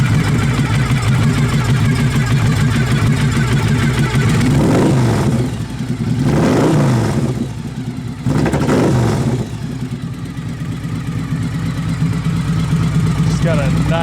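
A Victory 92 cubic inch motorcycle with unbaffled exhaust idles loudly up close, then roars through two distinct throttle blips before dropping back to a rumbling idle, with a voice speaking over it.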